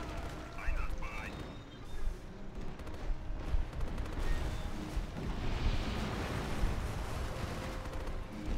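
Gunfire and battle noise in the 2004 strategy game Axis & Allies during the Battle of Stalingrad, a continuous rumbling wash of distant shots and blasts with faint voice commands.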